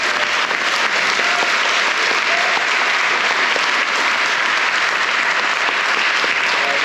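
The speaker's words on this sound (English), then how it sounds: "Let's give them another round of applause." A room of attendees at a week-one Senate session gives a sustained round of applause, a loud, dense, unbroken roar of clapping lasting nearly seven seconds with no speech.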